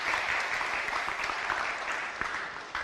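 An audience claps together at a motivational talk on self-healing, a steady, dense wash of applause that holds for about three seconds with no speech over it.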